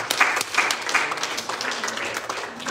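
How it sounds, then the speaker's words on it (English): A church congregation claps hands together in a brief burst of applause, lively and close, with some crowd voices mixed in. "We clap the head to the Lord."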